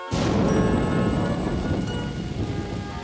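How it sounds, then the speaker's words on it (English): A thunderstorm opens with a sudden loud crack of thunder and continues with steady, heavy rain pouring down and rumbling under it. "it could be raining"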